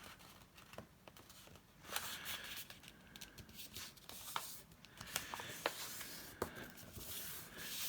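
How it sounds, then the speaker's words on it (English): A bone folder rubbed firmly along a crease in folded paper makes dry scraping strokes in short repeated passes, close and quiet. "I'm just going to burnish that and then fold this flap down."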